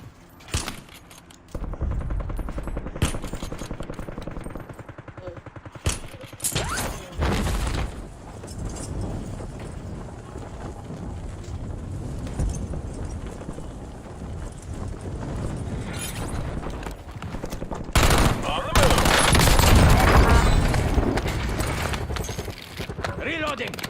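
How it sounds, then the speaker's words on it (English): Video game gunfire and weapon reloading in a live stream, with bursts of rapid shots and mechanical clicks under steady talk from players, growing loud and dense near the end. "That was you reloading."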